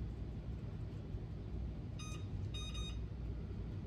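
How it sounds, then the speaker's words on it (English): A kitchen timer being set for a skillet of chicken Alfredo, giving a few short electronic beeps partway through over a steady low rumble of stovetop cooking noise. "So I'm going to set the timer"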